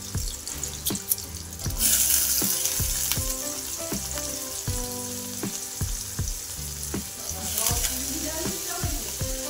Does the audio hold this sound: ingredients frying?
yes